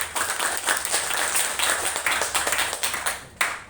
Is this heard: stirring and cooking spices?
no